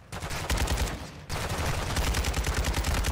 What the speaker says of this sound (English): I got an AK